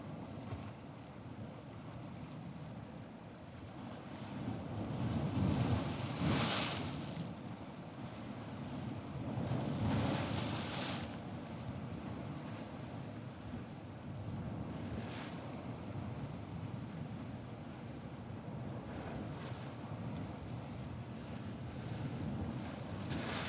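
Ocean waves wash onto a beach in slow surges, swelling and fading every few seconds under a steady wind-like roar, with no voices.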